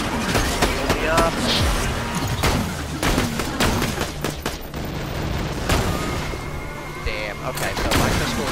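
Pistol shots in Borderlands 2, sharp loud cracks firing in quick irregular bursts over a dense, busy game soundscape, with a voice talking in the background.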